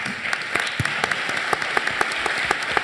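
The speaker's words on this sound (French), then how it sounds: "Applaudissements pour Bernard Grech." Applause from an audience at a French real-estate event, a steady patter of many hands with sharper individual claps standing out, moderately distant and continuing for a few seconds without talk.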